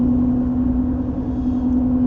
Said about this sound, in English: hopefully it's not too loud and you can hear me over the hum of these monster truck tires